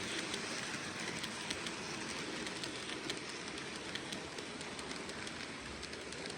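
A steady rumbling clatter of a small train running continuously, with light rhythmic clicking over a constant whirring drone.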